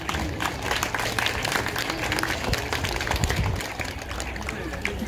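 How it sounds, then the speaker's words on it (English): Applause from a crowd at a Thai New Year celebration in Laos, a dense steady wash of clapping held at a fairly even level for the full stretch, with some crowd noise mixed in. "one last round of applause"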